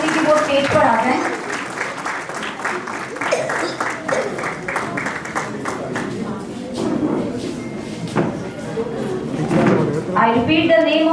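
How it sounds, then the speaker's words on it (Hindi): At a play school annual day, an audience claps for the children in uneven, moderate bursts mixed with chatter and nearby knocks and bumps, and voices are heard throughout. "तालियां बजाइए हमारे कलरफुल बच्चों के लिए"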